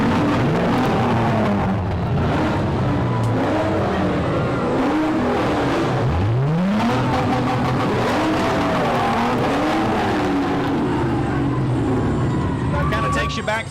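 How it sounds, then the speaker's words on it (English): Mustang muscle car engines from a car club rev and rumble at a street parade, rising and falling pitch sweeps up close over continuous crowd and street noise, with voices talking throughout. "Let's take a second just to kind of listen to those engines rev."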